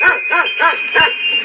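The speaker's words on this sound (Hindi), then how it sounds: "वो कुत्ते की भौंकने की आवाज आ रही है।" A dog barks four times in a quick, regular series, close and fairly loud, with a steady high tone running underneath.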